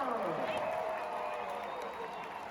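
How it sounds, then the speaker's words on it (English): A stadium crowd applauds Coach Kelly Harper at a Tennessee soccer celebration, a fairly faint, distant wash of clapping and cheering mixed with crowd babble. "Another round of applause for Coach Kelly Harper"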